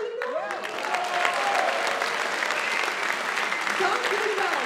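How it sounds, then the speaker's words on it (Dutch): Warm, sustained applause from a concert audience for a centenary jubilee fanfare band, dense and loud across the whole stretch with a brief voice near the start. "Dames en heren, geef ze nog een warm applaus"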